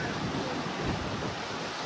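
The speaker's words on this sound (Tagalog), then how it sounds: "Malakas din ng alon dito." Heavy Caribbean waves pound the shore near Aruba's Natural Bridge, producing a continuous close roar of churning water mixed with gusty wind noise, with no talk.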